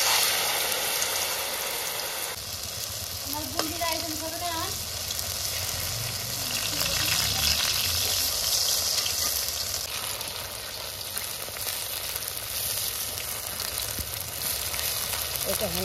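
Pumpkin leaf fritters frying in hot oil in a wok, a steady dense hiss of bubbling oil that swells and settles, with brief faint voice sounds early on.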